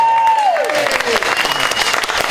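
An audience at a live storytelling show bursts into brief applause and cheering, with a voice sliding over the start before the clapping fills the room.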